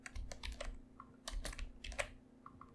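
Fingers typing on a computer keyboard while working in Excel VBA, giving quick bursts of clacking keystrokes with brief pauses between them, close and moderately loud with a faint steady hum beneath and no voices.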